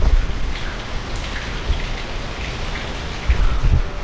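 Heavy rain pours steadily in a broadband hiss, with low rumbles of thunder swelling near the start and again toward the end; no voices are heard.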